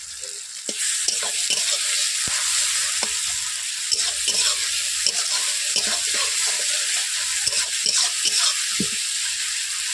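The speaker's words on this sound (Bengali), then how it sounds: "এরপর দিয়ে দিচ্ছি রসুন বাটা।" Garlic paste frying in a pan for a fish jhal, a continuous close sizzle broken by frequent scraping stirs and clicks of a spatula, no talking.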